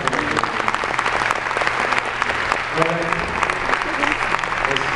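An audience at an artist event in Mexico gives a long round of steady applause, loud and continuous, while a voice talks briefly over the clapping.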